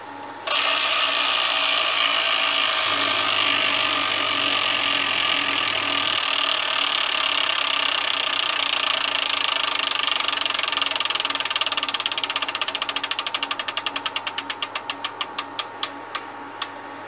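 A Wheel of Fortune Deluxe electronic tabletop game wheel spins with a steady bright whirring rattle that runs for many seconds, then slows into a series of distinct ticking clicks spaced farther and farther apart as it stops.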